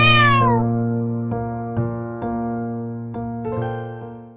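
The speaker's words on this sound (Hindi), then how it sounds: "अचानक एक बिल्ली सबके सामने आ जाती है" A cat lets out a clear, drawn-out meow that falls in pitch, followed by a steady tonal background with several soft percussive taps, close and alone with no talking.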